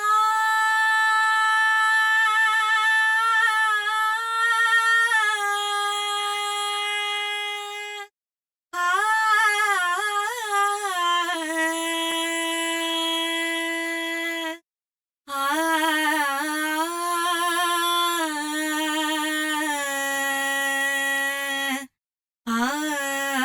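A solo vocal sample sung in long, wavering sustained notes with vibrato, clean and close, broken by three brief silent gaps.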